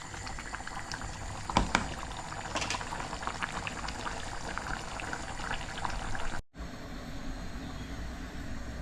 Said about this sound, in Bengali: এতে আর একটু পানি দেব